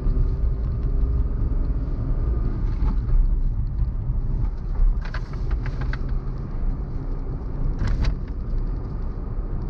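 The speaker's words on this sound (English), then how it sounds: "we are inside the Kwid, we are moving" Inside a moving Renault Kwid, a steady low road rumble and engine hum fill the cabin continuously, with occasional faint clicks and rattles.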